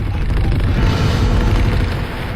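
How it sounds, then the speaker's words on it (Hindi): A grenade blast from a battle against soldiers firing from a two-storey building, a loud sustained booming rumble heavy in the low end that fills the whole stretch with no voices. "एक्का ने पहले एक ग्रेनेड उसमें फेंका।"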